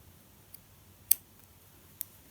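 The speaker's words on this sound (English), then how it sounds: "just using the tip of my scissors a little bit at a time" The tips of scissors snip through knitted stitches to cut a steek in a cardigan knit in the round, giving three faint, sparse clicks in quiet surroundings.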